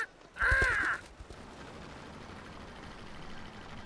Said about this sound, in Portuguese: Aquele pássaro!